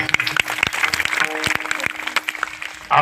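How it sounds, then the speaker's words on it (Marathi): Audience clapping at a Shivaji Jayanti kirtan, a dense burst of many hands applauding together throughout, fairly loud and close, with a few voices mixed in. "यांच्यासाठी टाळी वाजवायची."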